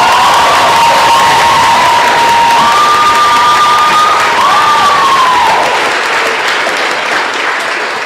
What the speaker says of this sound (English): give our sister, Professor Angela Davis, another round of applause.